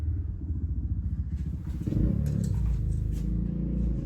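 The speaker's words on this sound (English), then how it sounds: "Motorbike going past in case you didn't notice." A motorbike passes outside, a low steady engine rumble that swells after the first couple of seconds and stays loud through the end, with a faint clatter on top.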